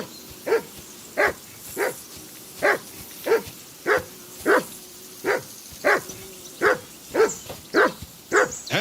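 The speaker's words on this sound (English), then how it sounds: "Whistle at that mutt of yours to stop barking!" A dog barks in Kingdom Come: Deliverance II, about a dozen sharp barks at a steady, even pace across the clip, close and fairly loud, with no talk over them.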